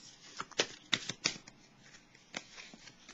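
Tarot cards are shuffled and drawn by hand, giving several crisp riffling flicks and snaps in quick bursts, close and fairly clear against a quiet background.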